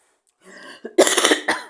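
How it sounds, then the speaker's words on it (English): A single harsh cough bursts out after a short rustle, followed by a second shorter cough, close and loud. "Sorry, I have a cough."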